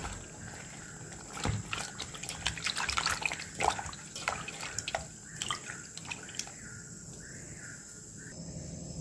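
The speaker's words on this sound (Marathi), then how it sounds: "आता आपण चिंच स्वच्छ दोन ते तीनदा धुवून घेऊया" Tamarind being rinsed in water in a bowl for a sweet and spicy chutney: soft splashing, swishing and dripping water with scattered light knocks, fairly quiet and close, no speech.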